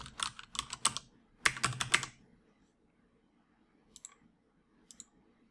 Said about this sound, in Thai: ป้อน username แล้วก็ password